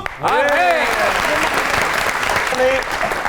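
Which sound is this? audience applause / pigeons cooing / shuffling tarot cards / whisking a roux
audience applause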